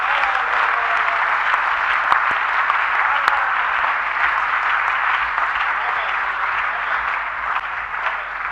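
A church congregation applauds in acclamation of the Lord during a worship service, a dense, steady wash of clapping that holds at full strength throughout with no pauses.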